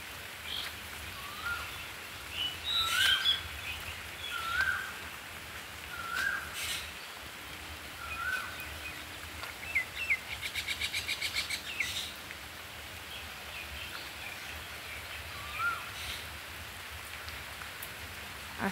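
Steady rain falls outdoors on trees and surfaces, a continuous patter with occasional heavier drops, while birds chirp and call intermittently at moderate distance throughout.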